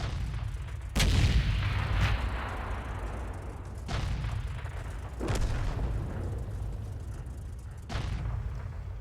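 Tank cannon fire in a tank battle video game: four loud, booming shots at uneven intervals, each with a sharp crack and a rumbling tail over a low engine drone, with no talking.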